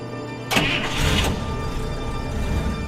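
A car engine cranks and catches, then settles into a steady mid-pitched running rumble as the vehicle pulls away, loud and close.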